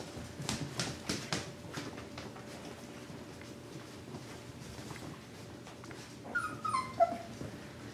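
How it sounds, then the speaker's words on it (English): A litter of young F1b mini Bernedoodle puppies whimpers, with soft whines early on and a cluster of higher, louder yips and whimpers near the end over a low background hum. "litter of F1b mini Bernedoodles"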